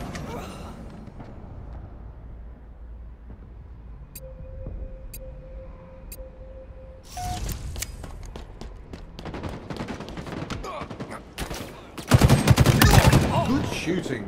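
Gunfire in Halo Infinite: bursts of rapid shots start around the middle and build to a dense, loud volley near the end, over game ambience.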